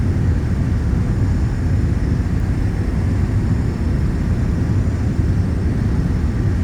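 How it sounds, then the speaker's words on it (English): Steady, loud broadband engine and airflow roar inside a Premier 1A business jet in flight, continuous and unchanging with no talk. "Man, this is an incredible airplane."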